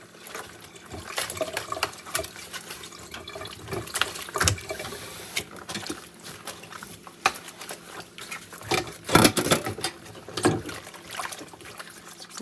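Dish rinsed under a running kitchen tap, water splashing and pattering unevenly with clattering bursts, fairly close and steady, no talk.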